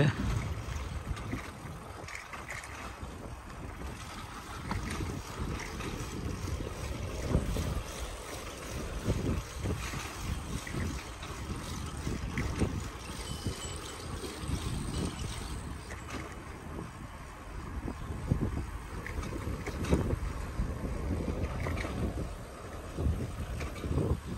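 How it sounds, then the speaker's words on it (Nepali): Wind gusts buffet the microphone beside the sea in Fukuoka, Japan, a loud, continuous rushing roar with rising and falling surges and no talk. "यही पछाडि समुद्र छ।"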